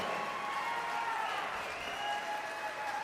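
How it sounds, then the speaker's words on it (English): Audience applause at a gala, a continuous wash of clapping from a crowd that holds steady for a few seconds, moderately distant and dense. "Let's give this side a huge round of applause."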